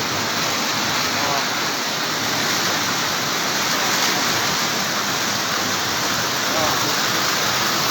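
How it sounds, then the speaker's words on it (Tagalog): Floodwater rushes hard through a flooded neighborhood in Bonbon, Libon, Albay, the water high enough to reach window level. A loud, steady broadband roar holds unbroken throughout, like a torrent or waterfall, with a voice faintly mixed in. "Ang baha. Di kakayanin ng rescue team to. Sobrang baha. Sobrang lakas."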